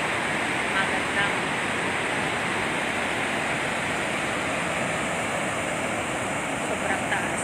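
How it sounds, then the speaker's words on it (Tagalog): Water pours out of the open spillway gates of the Magat Dam in the Philippines during an overflow, a loud, unbroken roaring rush like a big waterfall, with a voice faintly underneath. "Kung makikita nyo, ang bilis ng labas ng tubig lang."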